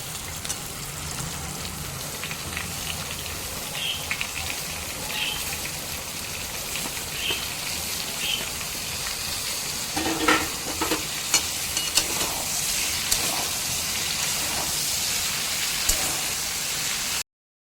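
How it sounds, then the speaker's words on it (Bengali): Yardlong beans and pumpkin stir-fry in a pan for a vegetarian mixed-vegetable curry. The pan gives a steady, loud, close sizzle with stirring scrapes throughout and no talk. "বন্ধুরা বরবটি কুমড়োটা এখানে দেওয়ার পর আরও 2-3 মিনিট খুব ভালো মতো করে কষিয়ে নিয়েছি"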